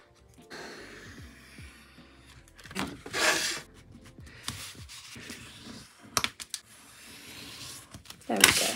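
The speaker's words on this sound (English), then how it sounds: "Now I'm just going to score it on my infeasibly small scoring board." A small scoring board creasing a handmade birthday card in sections, with soft scraping and rubbing strokes, quiet and close, broken by a few brighter swipes and light taps.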